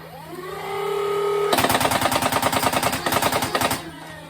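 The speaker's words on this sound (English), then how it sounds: "I'm gonna unload these, and we'll see at how many darts per second or rounds per second they're shooting at" Nerf Regulator blaster on its stock pusher motor, whirring as it spins up and then firing a rapid burst of darts at about eight per second, a loud close mechanical rattle that stops after roughly two seconds.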